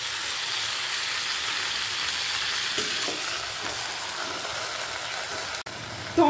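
Drumstick stalks and potatoes are stirred together with tomato in a pan for a spicy Bengali datar jhal; a soft, steady sizzle runs under occasional spoon scrapes, ending with a brief clatter.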